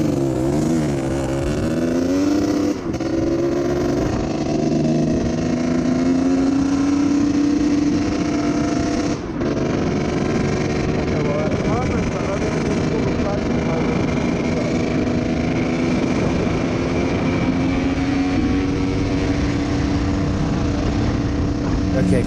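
A Kawasaki KDX 125 two-stroke dirt bike engine runs rich and four-strokes with an uneven, burbling drone that holds steady, with a couple of brief dips, while someone talks over it.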